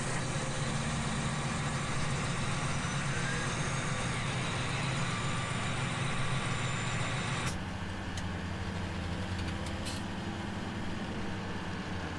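A truck engine in the Farming Simulator 17 video game runs in a loud, steady drone with a constant low throb, shifting to a slightly different tone partway through, and no talk over it.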